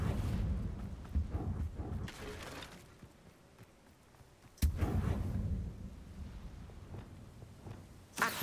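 A Confringo blasting spell goes off in Hogwarts Legacy, a sharp, loud burst near the middle followed by a rumbling roar, with earlier combat blasts and game noise before it and another hit at the end.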